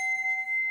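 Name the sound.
chime made from a piece of aluminum being struck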